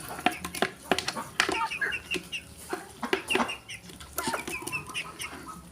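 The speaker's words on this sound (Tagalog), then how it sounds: "Yan ang ating mga alagang manok." Several domestic chickens cluck and chatter close by in an irregular flurry of short calls, with a few sharper squawks mixed in.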